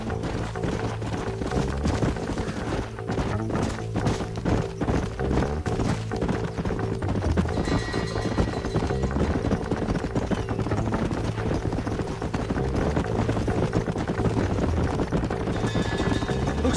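Several horses' hooves clip-clop at a steady galloping rhythm in Red Dead Redemption, loud and close, under a continuous music and ambient bed without talk.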